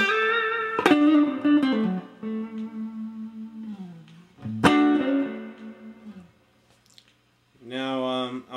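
A rockabilly electric guitar lick played up to speed, with quick plucked notes and bends that sustain in two bursts. Playing stands alone, close and clear.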